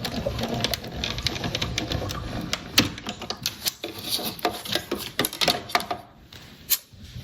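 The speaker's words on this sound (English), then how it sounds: "We're gonna put it on the Stampin' Cut and Emboss machine and crank it through." A Stampin' Cut and Emboss machine being hand-cranked to run a plaid embossing folder through, giving a steady clattering, ratcheting mechanical rattle up close with no voices.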